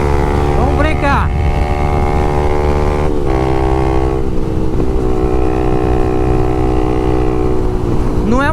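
A Honda Twister 250 motorcycle fitted with a LeoVince exhaust, held at loud, steady revs with a buzzing, droning tone that steps in pitch a couple of times, close up throughout.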